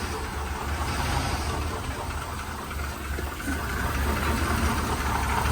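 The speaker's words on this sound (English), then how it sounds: "I don't know why it's idling like that." A GMC Yukon engine idles roughly with a low, uneven rumble and a steady mechanical hum, heard close up and continuous throughout with no talking.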